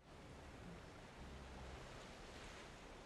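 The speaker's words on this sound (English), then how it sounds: "Those are big waves. That is the ocean." Big ocean waves in the video game Valheim roll as a steady, broad wash of surf noise, soft and continuous with no voices over it.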